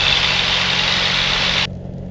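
Jabiru light aircraft engine at full power on the takeoff roll at Murray Bridge, a loud steady broadband roar with a droning low hum that drops sharply in level near the end, no talk.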